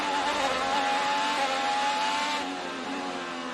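An IndyCar race car at speed around Laguna Seca, its engine a loud, sustained high-pitched drone with a steady whine that eases slightly near the end, heard up close and on its own.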